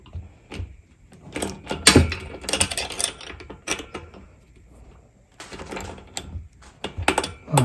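A wrench cranks a nut on an Innova inversion table, giving bursts of close mechanical clicking and rattling separated by short pauses.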